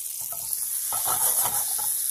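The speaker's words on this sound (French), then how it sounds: "Là, je vais faire sauter mes petites tomates cerises." Cherry tomatoes sautéing in a pan over low heat, a soft steady sizzle with a few louder stirring bursts in the middle, close and alone with no talking.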